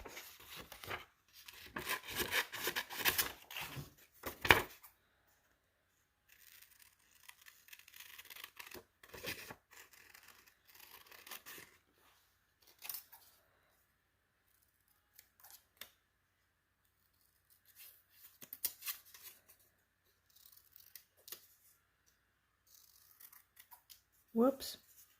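Scissors snip through paper pieces for a landscape mosaic in an art lesson, short close crisp bursts of cutting and rustling separated by quiet gaps, with no talk over them.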